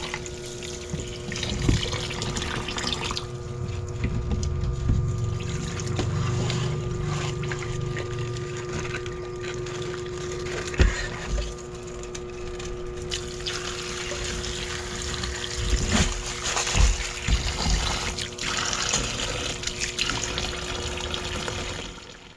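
Seafood is rinsed in salted water, giving a continuous close splashing and sloshing with scattered knocks and drips, steady from start to finish with no speech.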